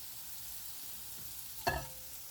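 Garlic frying in oil in a pan for a shrimp rice bowl, a soft steady sizzle at low level, then a single sharp clack of a utensil near the end, with no talk.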